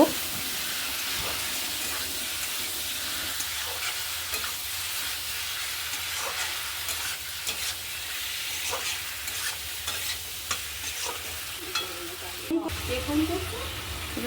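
Lote fish frying in spiced masala while being stirred, a loud continuous sizzle and hiss with repeated scraping of the spoon against the pan throughout.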